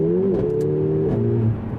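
A Mercedes-AMG A45 hot hatch revs hard in Sport Plus with its exhaust valves open, the engine note rising and falling in a loud, close, rasping burst.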